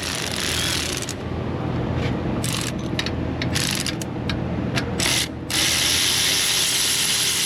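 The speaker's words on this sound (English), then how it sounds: "It's going to be a ratchet and an extension." A ratchet with an extension works loose the 12 mm nuts on a car assembly, giving a steady run of clicking and grinding with short breaks, close and fairly loud.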